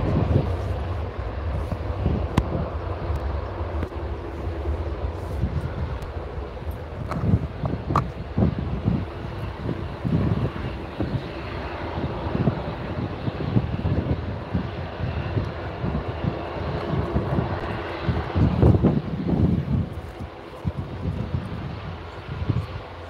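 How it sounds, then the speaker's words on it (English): An EasyJet airliner rolls for takeoff toward Nice, its engines a distant, steady roar that swells and fades under gusty wind noise across the whole stretch. "EasyJet on the roll for Nice"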